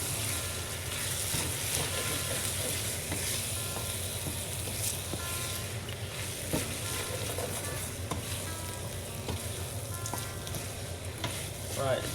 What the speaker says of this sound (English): we're gonna add the mutton. Right, it goes in, and we stir it up